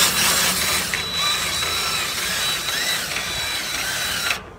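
A cordless drill driving a trailer jack through a welded-on adapter, whirring steadily and loudly up close for about four seconds before cutting off abruptly.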